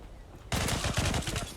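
Rapid bursts of gunfire in the online shooter game Zula, starting abruptly and continuing as dense, loud repeated shots with a faint room hum before them.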